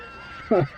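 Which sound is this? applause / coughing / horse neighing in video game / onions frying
horse neighing in video game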